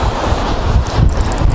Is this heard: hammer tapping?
no